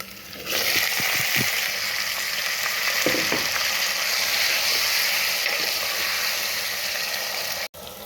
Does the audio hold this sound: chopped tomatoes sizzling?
yes